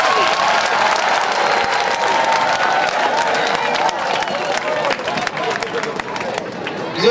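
An audience at an NGO event in Togo breaks into sustained, loud applause, a dense wash of clapping with crowd murmur and scattered voices running underneath throughout.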